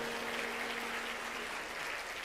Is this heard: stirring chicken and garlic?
no